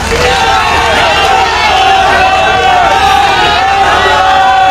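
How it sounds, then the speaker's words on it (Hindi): A large crowd at an election rally in Tigaon, Faridabad, cheers and claps loudly to welcome a speaker, forming a dense continuous roar of voices and applause close by throughout. "तालियां बजाकर विपुल गोयल जी का स्वागत।"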